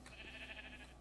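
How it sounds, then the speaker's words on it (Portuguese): A Minecraft sheep gives a single short, nasal bleat at a moderate distance, heard alone against a quiet low background. "Olha uma ovelha ali."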